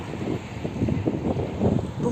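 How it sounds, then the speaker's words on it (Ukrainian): Gusty wind buffets the microphone in low, rumbling bursts, loud and close, with no voices, on a cold evening in a town centre. "Вітер, звісно, правда, вітер аж шапку з голови зносить"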